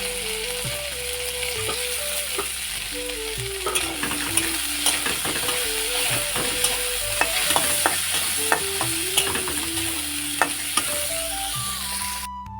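Chopped onion frying with jackfruit seeds in a pan, a steady sizzle with scraping stir strokes and clinks throughout, close and continuous, with some background music tones underneath.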